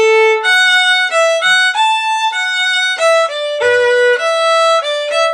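Highland bagpipe melody with a steady drone beneath, including two repeated notes of the same pitch run together with no grace note between them, played loud and alone.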